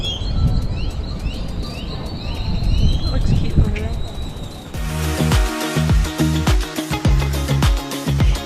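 Birds and hummingbirds coo and chirp repeatedly against outdoor background noise in Old Panama, with people talking faintly; the scene shifts midway to busier, clattering sounds with more calls.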